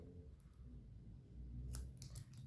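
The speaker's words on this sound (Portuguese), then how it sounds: "Deixa eu cortar essa pontinha de fio" Scissors snip a thread end during crochet, a single short, quiet, close click-cut against a faint low background hum, no talking.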